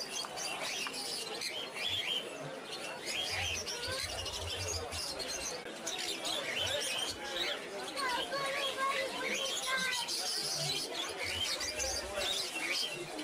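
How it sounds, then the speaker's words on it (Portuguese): A dense chorus of many caged birds chirping and trilling at once at the Fiera degli Osei bird market in Campodarsego, Padua, busy and continuous, with people talking faintly underneath. "a confusão que é todos os passarinhos cantando"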